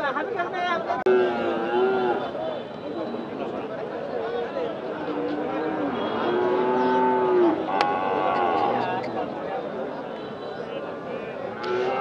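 Busy outdoor cattle market in Bangladesh: several cows moo at intervals, near and far, over a constant murmur of crowd chatter and people talking.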